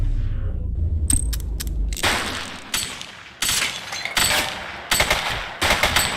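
Gunshots in the video game The Precinct, a few sharp early cracks followed by repeated loud bursts of rapid gunfire in quick succession, close and dominant.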